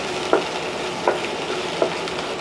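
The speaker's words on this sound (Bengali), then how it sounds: "এখন আমি দেব আদা রসুনের পেস্ট, আবার এর সঙ্গে মিশিয়ে ভালোভাবে ফ্রাই করে নেব।" Onion with ginger garlic paste being stir-fried for green chicken: a steady close sizzle runs throughout, broken by three evenly spaced spatula scrapes against the pan, with no talking.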